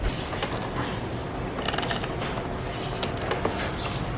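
A headlight socket being twisted and pulled free from a motorcycle, giving a run of small plastic clicks and ratchety rattles over a steady background hiss, with no talking.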